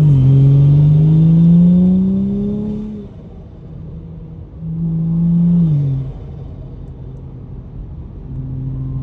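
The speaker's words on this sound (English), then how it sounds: "that blow-off sound from the turbo" A BMW 435i with an XHP tune revs its engine, rising droning pulls that rise and fall twice with a hiss of the turbo blow-off valve between, loud and near with no talk.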